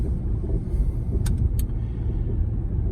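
Steady low engine rumble heard from inside a car, continuous and fairly loud throughout, with a couple of brief faint high clicks partway through.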